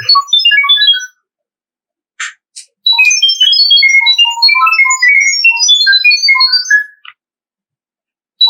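A phone plays the CAMHI camera Wi-Fi pairing tone, a loud run of rapid high chirping beeps in varied pitches, pausing briefly before resuming, with no voices.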